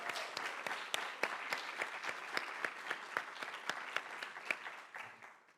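An audience gives a round of applause at a book launch in a library, steady dense clapping from a room full of people, fairly soft and continuous before tapering off.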